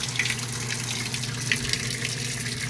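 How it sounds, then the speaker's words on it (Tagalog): Water gushes steadily from a tap into a Samsung automatic washing machine being repaired, a constant near rush with no voices. "Yan, kita nyo, pasok ng tubig."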